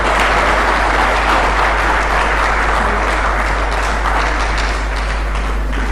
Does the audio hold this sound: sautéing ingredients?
no